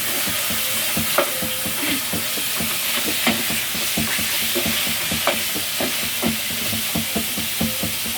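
Chicken adobo (adobong manok) sizzles in a pan while a utensil stirs it, giving a steady frying hiss broken by regular scraping and clacking strokes, close and loud, no talking.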